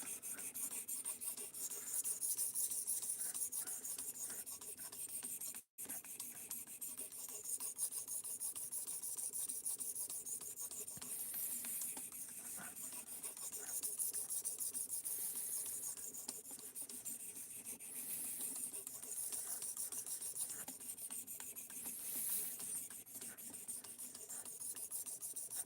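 A knife blade drawn steadily across a sharpening stone, producing a continuous close raspy grinding with repeated strokes and one brief pause, no talking.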